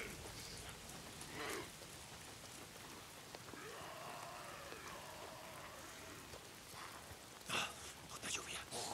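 Steady rain patters across the scene in the Days Gone video game with a constant hiss, while a few brief louder bursts and a voice come through near the end.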